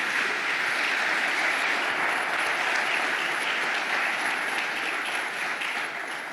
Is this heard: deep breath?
no